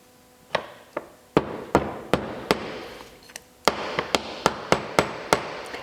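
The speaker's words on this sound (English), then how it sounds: "I'm going to take the hammer," A hammer taps an aluminum ejector plunger into a Savage rifle bolt head, giving about fifteen sharp, close metallic taps, irregular at first, then a quicker, even run.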